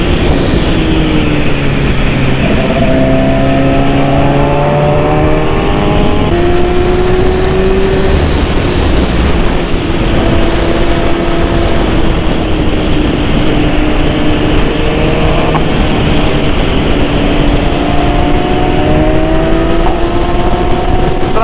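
A 2010 BMW S1000RR sport motorcycle engine roars steadily while riding, pitch climbing and dropping repeatedly through gear changes, under constant loud wind rush.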